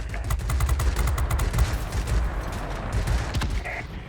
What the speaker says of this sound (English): The guns do overheat a bit, but they are very, very good guns.